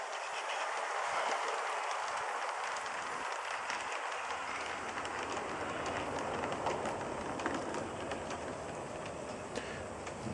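Bachmann Spectrum Mogul model train running steadily on its track, a continuous close mechanical whir with a fine ticking clatter of wheels, holding an even level throughout with no voices.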